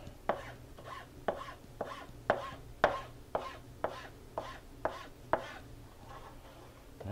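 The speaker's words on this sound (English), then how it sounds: "I have to get my chili sliced up." A knife slicing chili peppers on a cutting board for chili con queso tamales, about a dozen evenly spaced crisp chops in a steady rhythm, close and fairly quiet.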